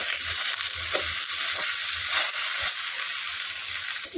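Aloo bonda shallow-frying in oil in a pan, a loud, continuous close sizzle with soft crackles throughout and no talk.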